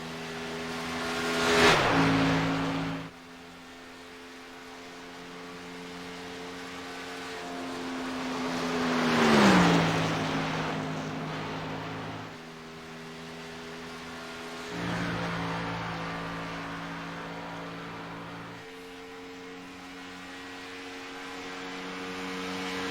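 Race car engine on a qualifying lap at Pocono Raceway in a racing video game, a sustained droning hum that swells loudly as cars pass by several times, with the pitch dropping after each pass.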